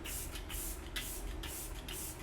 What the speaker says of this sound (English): we're going to finish with Let It Set Refreshing Spray